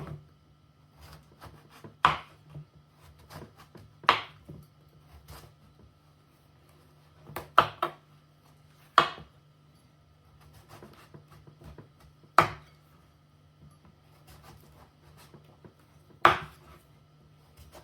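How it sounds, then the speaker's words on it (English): Knife chopping fresh garden zucchini into chunky pieces on a board, sparse single sharp cuts every couple of seconds, close and otherwise quiet. "I sliced and cut it into chunky pieces"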